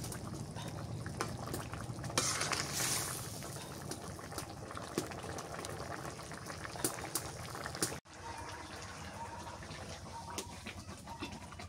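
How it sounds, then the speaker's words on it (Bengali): Rita fish curry with Malabar spinach and ash gourd boils in water in a pot, a faint, continuous bubbling that briefly cuts out partway through, with no talk. "তরকারি জলে ফুটছে মাছ দিয়ে দিই"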